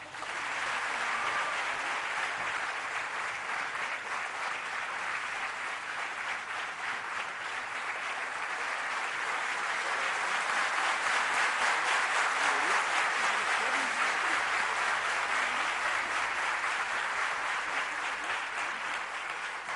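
A big audience at a college festival breaks into long, steady applause, dense clapping throughout with a slight swell midway, no voices over it.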